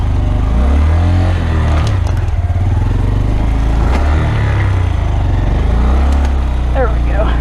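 An off-road vehicle's motor scrapes and grinds across the ground on a rough trail, a loud continuous engine roar with rasping scrapes, revving surges and a voice speaking over it.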